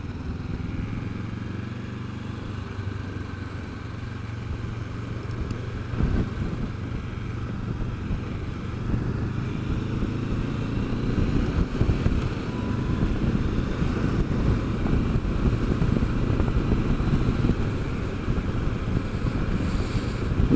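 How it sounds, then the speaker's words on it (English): Motorcycle ride on roads near Bradford and Leeds, a continuous low engine drone heavily buffeted by wind noise, steady and close throughout with no talking. "just jump on a bike, have a little bimble around"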